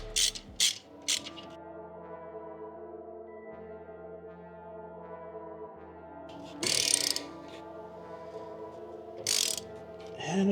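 A ratchet tightening a V-band clamp on a downpipe for an MK7 GLI gives several sharp bursts of rapid clicks at the start and again later, separated by a steady mechanical hum.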